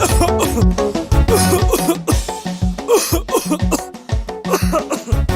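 Repeated harsh coughing fits from a person in a radio advertisement for herbal throat lozenges, loud and close, several bursts in uneven rhythm with brief gaps between them.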